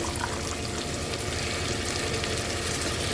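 Parboiled rice cooks in coconut milk in a pot: a steady, loud bubbling and hissing boil with no break and no speech.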